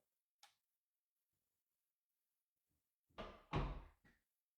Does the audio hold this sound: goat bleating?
no